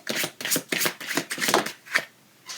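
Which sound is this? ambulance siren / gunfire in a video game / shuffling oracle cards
shuffling oracle cards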